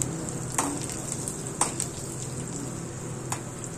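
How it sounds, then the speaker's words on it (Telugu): Garlic, dried red chillies and curry leaves fry in hot oil for a tempering, a steady close sizzle broken by a few sharp spoon clinks as the pan is stirred. "ఎల్లిపాయలు, ఎండుమిర్చి, కల్లుమాకు వేసి వేగేదాకా వేయించుకోవాలి"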